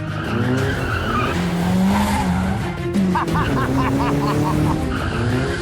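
A car drifts on a track with long, wavering tire squeals that sweep up and down over a loud engine roar, with a choppy burst of revving partway through.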